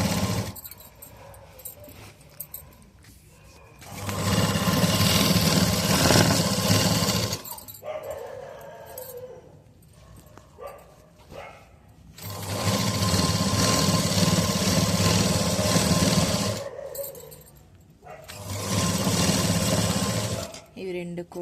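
A sewing machine stitches the neck of a Y-neck school uniform in three long, loud whirring runs, separated by pauses filled with quieter handling sounds and a voice talking.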